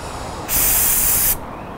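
An athlete's foot spray can releases a single steady hiss of liquid spray lasting under a second, loud and close, then cuts off abruptly.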